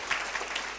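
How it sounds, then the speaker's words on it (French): A brief, soft burst of clapping from a church congregation after a drama presentation, heard at a distance and fading quickly. "Let's give them another clap offering."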